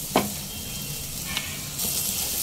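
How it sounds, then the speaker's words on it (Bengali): Spiced masala with tomatoes sizzles steadily in a karai, a continuous close hiss broken by a few sharp spatters and stirring scrapes. "এই টমেটো নরম হতে হতেই মশলাটাও কষিয়ে নেওয়া হয়ে যাবে"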